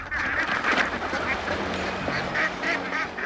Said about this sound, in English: East Maui taro farmers are experimenting with a natural predator, the cayuga duck